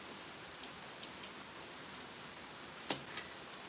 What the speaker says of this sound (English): That rain is heavy.